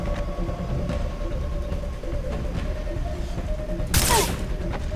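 A single sharp gunshot cracks out in the Far Cry 3 video game over a steady hum of game ambience, with a brief ringing tail after the shot and no other shots.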